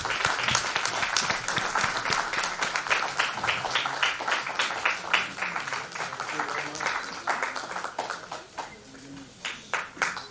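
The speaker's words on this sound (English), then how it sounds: "So one more round of applause." Audience applause at an agricultural award function, dense steady clapping across the room that thins out into scattered individual claps near the end, with faint murmuring voices underneath.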